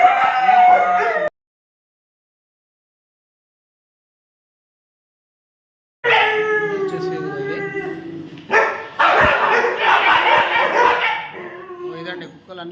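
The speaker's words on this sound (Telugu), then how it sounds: "కొంచెం కుక్కలన్నీ మొత్తుకుంటున్నాయి." Several dogs barking and yelping at a dog kennel, loud bursts in the opening second, then a long silent gap before a dense stretch of overlapping barks and yips fills the rest.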